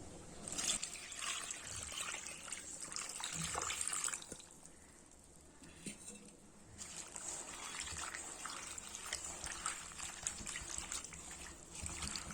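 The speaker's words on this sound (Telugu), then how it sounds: "2 సార్లు కడిగి శుభ్రం చేసుకుందాం." Gongura leaves are rinsed in water, giving a faint, uneven trickle and splash that dips briefly in the middle before resuming.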